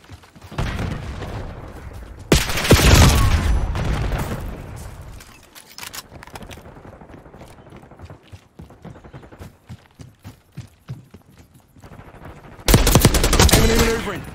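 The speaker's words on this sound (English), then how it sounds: "Throwing frag." Call of Duty Black Ops 6 multiplayer combat: a loud frag grenade blast followed by bursts of rapid gunfire, scattered shots and footsteps, then another heavy burst near the end, with brief game voice lines.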